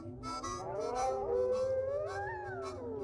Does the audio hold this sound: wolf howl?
yes